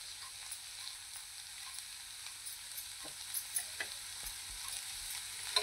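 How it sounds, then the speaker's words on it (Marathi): Eggs fry in oil with onion, garlic and masala in a pan, giving a soft, continuous sizzle. Occasional light scrapes and taps from stirring rise above it, and no one speaks. "त्यावर आपल्याला ही अंडी थोडीशी फ्राय करायची आहेत."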